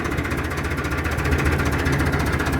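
A Massey Ferguson 265 S tractor engine idles while spraying, a loud, close, steady diesel rumble with a rapid knocking pulse and constant vibration.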